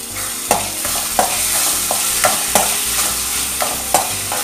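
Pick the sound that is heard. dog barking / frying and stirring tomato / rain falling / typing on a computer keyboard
frying and stirring tomato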